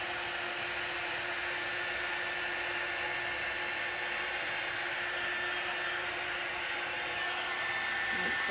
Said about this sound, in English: all I'm doing is just tracing the image with the heat gun